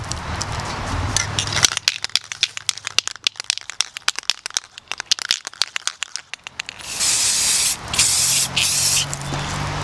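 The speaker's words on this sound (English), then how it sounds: "So we're gonna spray it right now." Close, loud bursts of aerosol spray hissing onto a rubber mask mold at the start and end, separated by a stretch of rapid, irregular clicking and rattling.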